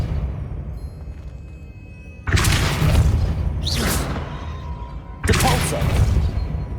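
Depulso spell cast in Hogwarts Legacy, two loud whooshing bursts a few seconds apart, each a sudden broad blast that sweeps and lingers, over a steady low game ambience.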